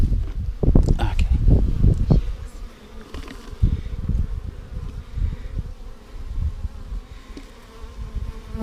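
Honey bees buzz in a dense, droning hum while a beekeeper handles a swarm by hand, with close rustling and thumping handling noises early on and muffled voices at times.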